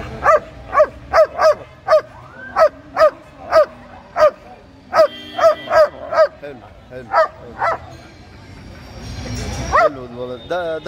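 Puppies at an outdoor Friday puppy market bark in a quick run of sharp, close yips and bow-wows, about a dozen evenly spaced, before fading into murmuring crowd noise and a brief whine.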